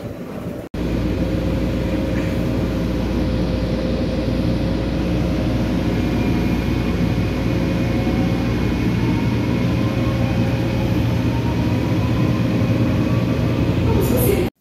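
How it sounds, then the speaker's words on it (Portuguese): Metro train pulling into a station on the way to Brás, a loud steady rumble with rising and falling electric motor whine and a faint squeal near the end, continuous and close throughout. "porque o meu trem chegou"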